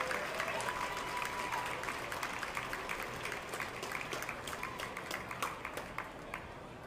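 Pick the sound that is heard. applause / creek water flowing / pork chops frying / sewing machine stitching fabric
applause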